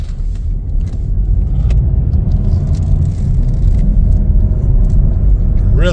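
A 2024 Chevrolet Trailblazer AWD LT cruises with a steady, smooth low road rumble and engine hum from inside the cabin, loud and continuous, with faint clicks and rattles above it.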